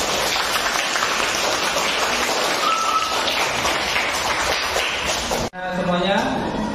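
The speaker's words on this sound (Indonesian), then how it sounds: "Beri aplaus untuk kelompok 1." Classroom of fourth-grade pupils clapping for a presenting group, a dense steady patter of many hands at moderate loudness that runs several seconds before cutting off, followed by a brief voice.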